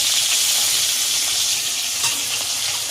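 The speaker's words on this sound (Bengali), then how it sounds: "কাঁচা লঙ্কা ফোড়নে দিলাম, 3টে কাঁচা লঙ্কা দিয়েছি, একটু কালো জিরে ফোড়ন দিলাম" Green chillies and black cumin seeds sizzle in hot oil as a tempering for a Bengali fish curry with potatoes, a steady close crackling hiss with no talk.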